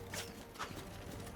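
Horse hooves clip-clop in the medieval combat game Mount & Blade II: Bannerlord, a few soft, irregular footfalls under a steady battle-noise bed, fairly faint and short.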